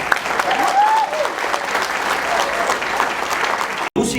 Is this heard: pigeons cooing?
no